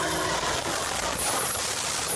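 A pre-6000 series tractor engine runs after a hydraulic pump refit, giving a steady, loud, close mechanical roar with a thin high whine over it throughout.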